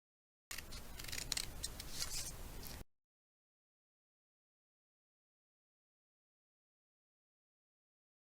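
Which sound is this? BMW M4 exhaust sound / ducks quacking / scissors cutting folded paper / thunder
scissors cutting folded paper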